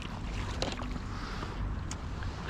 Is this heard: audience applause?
no